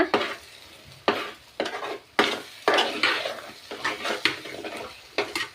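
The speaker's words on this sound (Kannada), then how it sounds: "ಚೆಂದಾಗಿ ಮಿಕ್ಸ್ ಮಾಡ್ಕೊಳ್ಳೋಣ ಇದನ್ನೆಲ್ಲ" Spoon stirring and scraping an egg and rice mixture in a frying pan, a steady run of scrapes and clinks over a low sizzle, close and fairly loud with no talking.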